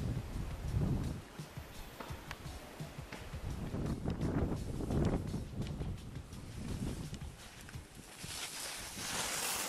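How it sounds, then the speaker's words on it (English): Steady wind gusting through trees at Crabbe Mountain ski area in New Brunswick at sunset, a broad rushing roar that swells and eases in waves, with no talking. "All I can hear is the wind and the trees"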